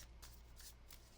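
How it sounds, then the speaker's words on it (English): Tarot cards being shuffled by hand, a series of crisp riffling bursts in quick rhythm, close and fairly quiet, with no talking. "Let me get a good shuffle on this"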